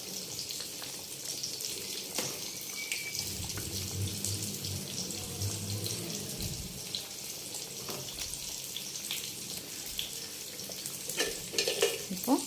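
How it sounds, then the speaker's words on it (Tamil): A spoon lightly stirs fish head curry in a pot, giving a continuous bubbling, sizzling wash with soft scraping and stirring sounds throughout. "சும்மா லைட்டாக கிளறி கொடுத்துக்கலாம்"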